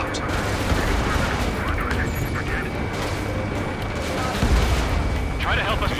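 Gunfire and explosions in the air-combat game Ace Combat 7 as a vehicle is attacked, a dense continuous roar of rumbling blasts and shots layered over engine noise.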